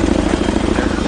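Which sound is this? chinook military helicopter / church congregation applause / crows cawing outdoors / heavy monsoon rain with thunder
chinook military helicopter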